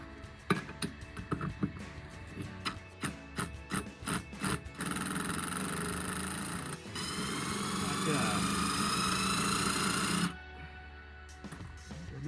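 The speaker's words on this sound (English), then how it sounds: "WD-40 and an impact wrench." An impact wrench removes front brake parts on a 1979 MG Midget 1500 treated with WD-40. Close, rattling hammer bursts come first, then longer sustained runs of whirring impacts, with brief pauses between them.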